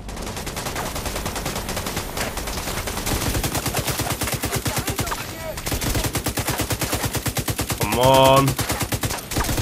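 Light machine gun fire in The Division 2, a sustained rapid rhythm of shots over nearly ten seconds with brief pauses, a louder burst near the end, and a player speaking briefly over it.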